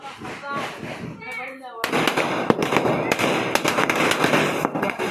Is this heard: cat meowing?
no